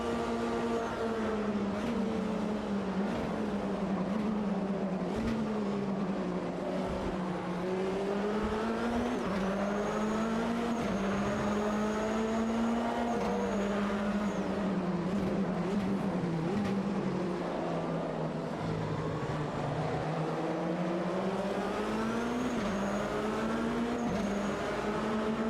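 Race car engines drone in Automobilista 2 at Daytona, a loud continuous whine rising and falling through gear changes as other cars run close alongside in a pack, with no talking.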